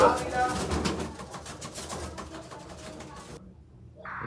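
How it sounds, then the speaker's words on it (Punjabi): Pigeons, including a black male with his mate, coo softly nearby in low throaty calls, partly under a person's talking before the sound drops away near the end. "ਜਿਹੜਾ ਕਬੂਤਰ ਬੈਠਾ ਹੈਗਾ ਕਾਲਖਾ ਆ ਕਬੂਤਰੀ ਉਹਦੇ ਨਾਲ ਲੱਗੀ ਹੋਈ"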